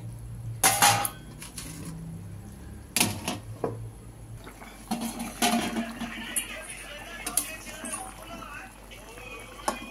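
A metal lid is set onto a pot of simmering fish curry with papaya, producing a couple of sharp close clanks followed by lighter rattles and scrapes of kitchenware.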